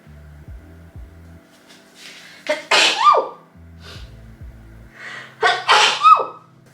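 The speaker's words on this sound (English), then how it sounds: "I have to sneeze." Two sharp sneezes close up, each preceded by a quick inhaling gasp, with low thumps and rustles between them.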